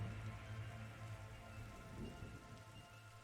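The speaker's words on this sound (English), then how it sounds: "Strange storm brewing overhead." Rain from a brewing storm in The Darkside Detective video game falls steadily, with a low rumble of distant thunder swelling around the middle and sustained low tones in the background.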